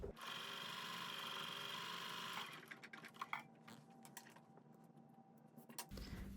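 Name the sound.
sewing machine chain piecing quilt block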